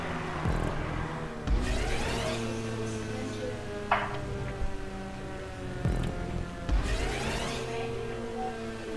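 Cars racing in the video game GTA 5, engines droning and revving with repeated surges and a couple of sharp hits or skids, fairly loud and continuous.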